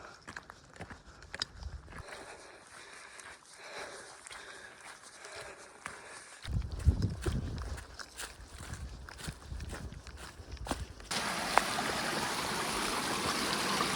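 Flowing stream water at a river crossing on the Appalachian Trail near Davenport Gap, a steady rushing wash that grows louder and fuller near the end, with scattered steps and brief talk earlier.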